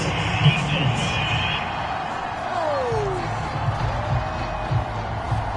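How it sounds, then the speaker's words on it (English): A stadium crowd at an NFL game between the Packers and Seahawks reacts to a penalty flag on third down, a broad roar of boos and shouting that holds steady throughout at a fairly distant, moderate level. "Well, the crowd doesn't like that."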